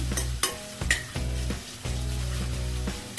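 Onion, green chili and ginger-garlic paste fry in a hot pan, a continuous sizzle broken by several sharp stirring scrapes and clinks of a spoon against the pan, close and loud with no talking.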